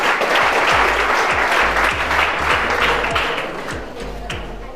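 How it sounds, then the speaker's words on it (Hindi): Audience at a carrom and chess tournament prize ceremony claps loudly, dense applause with a few sharper close claps standing out, tapering slightly toward the end. "One big round of applause everyone."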